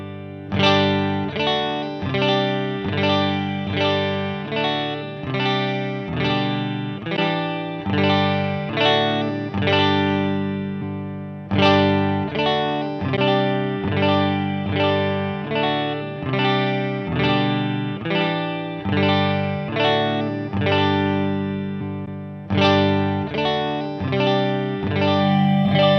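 Electric guitar loop played through updated Line 6 Helix 3.50 cabinet models, with chorus, distortion and effects, a steady rhythmic pattern of repeated chords that loops three times, loud and continuous with no talking.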